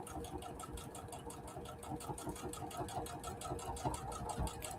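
A small sewing machine runs steadily for the whole stretch, a fast even mechanical chatter, faint and close, with no pauses.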